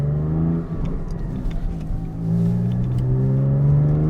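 A mid-engine Porsche 718 Spyder with a new Akrapovic exhaust revs to about 4,000 RPM, a loud close engine note rising and falling in a steady harmonic drone with no talk over it.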